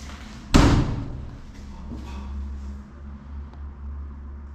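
Door closing with a single sharp, loud slam near the start, followed by a low steady engine-like hum and faint background noise during an outdoor street protest.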